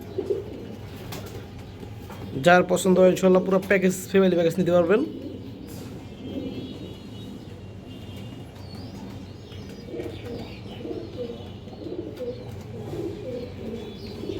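Soft pigeon cooing murmurs throughout, close by, with someone speaking over it for a few seconds early on; the birds are big-headed Bezi-line breeding pigeons with their young.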